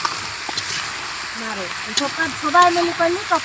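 Rice fries in a pan with salt and turmeric while being stirred, a steady close sizzle with scraping stir strokes, with someone talking over it.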